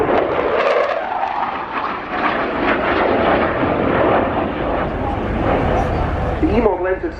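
A Saab Gripen jet roars loudly overhead at the RIAT air show, a broad sustained rumble that swells and shifts as it passes, with a commentator talking over it.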